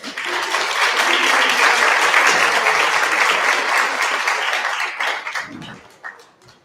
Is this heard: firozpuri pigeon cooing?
no